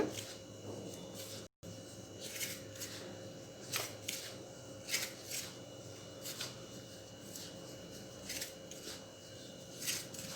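Rice flour dough for uppu seedai is worked by hand, giving soft, close, quiet rubbing and squishing sounds that come in irregular short bursts over a faint steady background hum.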